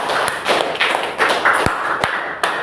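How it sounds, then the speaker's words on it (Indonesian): Audience clapping hands at an Indonesian classroom or community gathering, loud and near with irregular sharp claps and thumps over a bright, continuous wash of clapping. "Tepuk tangan dulu."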